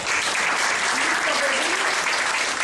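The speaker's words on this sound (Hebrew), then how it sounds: "עכשיו, עם מחיאות הכפיים שלכם, כל הילדים עומדים." Steady, loud applause from an audience at a children's end-of-year party, a continuous wash of many hands clapping at close range with faint voices underneath.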